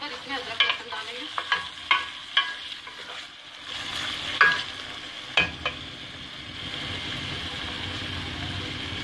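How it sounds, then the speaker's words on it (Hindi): Biryani masala fries in a pan, a close steady sizzle broken by repeated sharp scrapes and clacks of a spoon stirring against the metal, with no talking. "ये बिरयानी का मसाला हल्का सा भूनकर इसमें अदरक लहसुन डालेंगे।"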